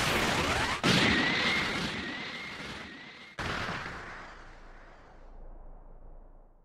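Special Beam Cannon attack in Dragon Ball Sparking Zero unleashes a loud, roaring energy blast with a thin whine running through it, then a second sudden burst that slowly fades out.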